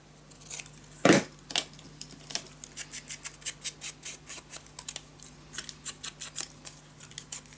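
Scissors snip through paper in a quick run of short, crisp cuts, close and fairly quiet, with one louder clack near the start and no talking.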